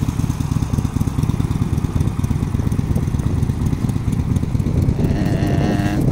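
A motorcycle engine runs steadily at low revs with a continuous, rumbling idle as a beginner rider practises in a parking lot. The sound stays close and fairly loud throughout, with no talk over it.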